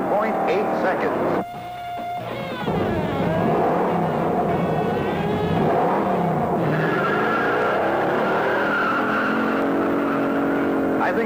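A 1969 Dodge Charger 500 with a TorqueFlight automatic launches hard from the line on a test track, its engine roaring close and loud as it revs up through the run.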